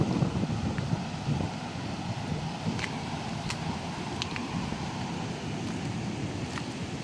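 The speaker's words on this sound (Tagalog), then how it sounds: "Ang laki ng alon." Big storm waves wash and rumble along the shore during Typhoon Uwan while strong wind roars steadily into the microphone, a continuous loud wash with a few faint sharp clicks.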